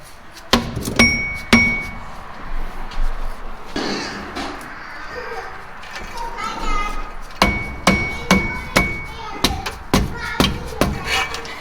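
A hammer strikes during prep work on a drag racing car, several sharp, loud blows spaced unevenly, with people talking and laughing between them.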